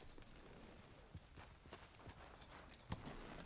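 A horse's hooves clop at a slow walk in the Red Dead Redemption video game, a steady run of soft, fairly distant steps over quiet ambient background.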